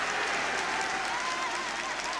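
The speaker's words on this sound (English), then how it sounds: "And Gilson quite rightly getting a round of applause for taming McDougall in that particular instance." A football crowd at a Brentford match applauds, a dense steady wash of clapping and crowd noise filling the stadium throughout.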